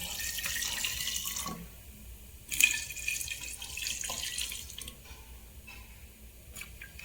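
Hot water, after a splash of vinegar, is poured into bottles to clean them. A steady rushing splash runs the whole time with a few louder gurgling bursts, and no one speaks.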